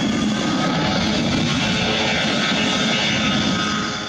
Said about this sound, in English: Feast your eyes on the BE-200, a multi-role hydroplane built to impress.